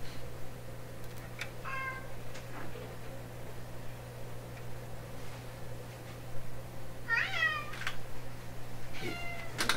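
A cat meows several times nearby in short, rising calls with pauses between them, over a steady low electrical hum in a room where an old Canadian Marconi Model 93 shortwave radio is being aligned.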